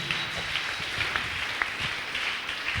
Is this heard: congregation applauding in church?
yes